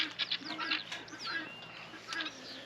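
Guinea fowl call outdoors on a homestead with a quick series of harsh, chattering cries and squawks. The birds sound moderately close, and no one speaks.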